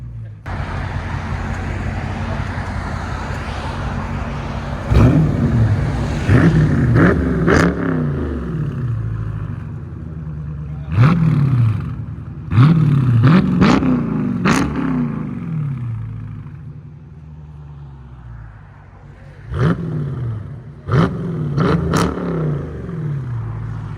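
A Dodge Charger Scat Pack with a 6.4L HEMI V8 and aftermarket exhaust revs in cold weather, several sharp throttle blips rising and falling in quick bursts over a low idle rumble, close and loud.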